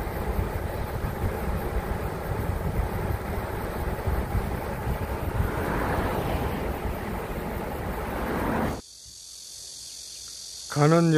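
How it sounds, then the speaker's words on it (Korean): Cicadas singing in late summer near a wooden footbridge by a rock-art site: a dense, steady buzzing drone fills the air, then cuts off abruptly near the end. "가는 여름이 아쉬운지 매미 울음소리가 나는"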